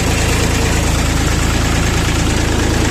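A Bulat 244 mini tractor engine running loud and close, a constant rapid diesel chugging with strong vibration and no pauses.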